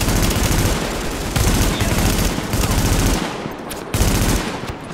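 Rapid automatic gunfire from the video game The Division 2 rattles loud and close in sustained bursts, with brief pauses between volleys.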